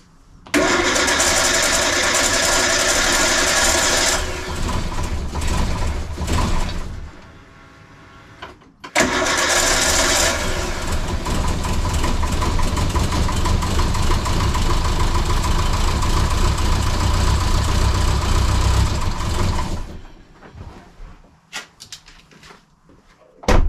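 A Renault 11 Turbo, just back from a starter repair, cranks and fires into a loud, steady idle. The engine cuts out and restarts for a long second run before shutting off, leaving scattered clunks.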